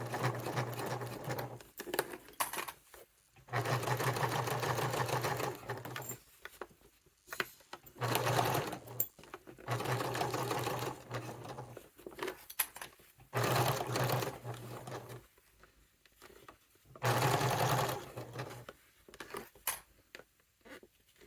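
A sewing machine works slowly through thick layers of a leather-and-fabric satchel, running in separate bursts with silent pauses between them, close and clear.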